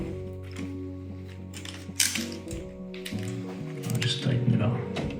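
Screws being tightened on the heatsink of a Samsung 990 EVO Plus M.2 drive on an MSI MAG Z890 Tomahawk motherboard give small close mechanical clicks and ratcheting turns over a steady low hum, fairly quiet throughout.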